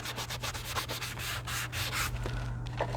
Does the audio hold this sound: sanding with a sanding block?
yes